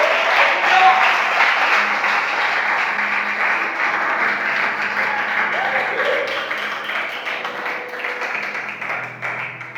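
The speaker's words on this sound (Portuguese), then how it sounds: "aplauda o Senhor bem forte em nome de Jesus" A church congregation claps loudly and steadily in sustained applause, dense and continuous, with voices mixed in underneath.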